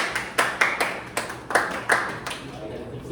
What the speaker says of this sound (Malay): Berikan tepukan